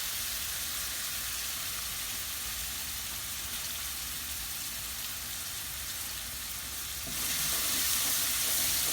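Onions and cloves fry in a pan for yellow rice, giving a steady, dense sizzle that grows slightly louder and fuller near the end, with no talking.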